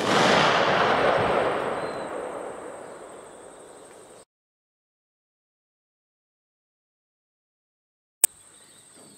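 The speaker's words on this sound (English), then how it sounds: "So here it is with a TW Terminator brake." A Marlin Government rifle fired with a TW Terminator muzzle brake: one loud, sharp outdoor shot with a long rolling echo that fades over about four seconds, followed by silence and a brief click.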